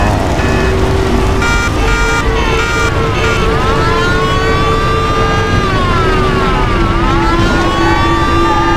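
A fire truck siren wails with rising and falling sweeps over loud, continuous car engine and road noise in the Mafia video game, the siren close and prominent throughout.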